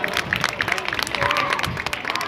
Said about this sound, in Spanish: Fuerte los aplausos para los pitufihuehues